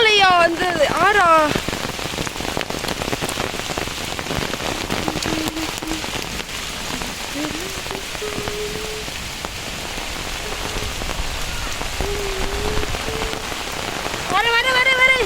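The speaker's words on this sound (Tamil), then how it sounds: "ஓ இங்கெல்லாம் மழையா?" Heavy rain pours steadily on surfaces all through a rainy day, a dense, close hiss. Animal calls or voices break in briefly at the start and end.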